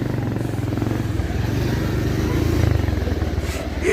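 A motorcycle rides along a rough dirt road between Myanglung and Basantapur, its engine drone steady and close with a throbbing low rumble and some rattling throughout.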